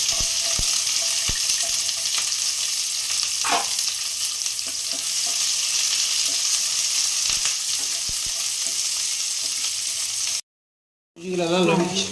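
Onion fries in a pan with a loud, steady close-up sizzle, broken by a few faint clicks, then a brief silence before a voice speaks at the end.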